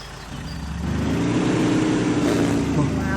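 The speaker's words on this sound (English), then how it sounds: "So, let's start this engine up." A Toyota RAV4 engine in the off-road driving game Spintires cranks into life after a quiet start, then settles into a steady, throaty, beefy idle with a strong low rumble that continues to the end.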